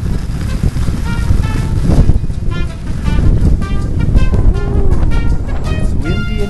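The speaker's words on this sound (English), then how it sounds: "It's windy and cold today." Wind gusts buffet the microphone on a ski slope, producing loud rumbling blasts that rise and fall unevenly, with faint background sounds mixed in.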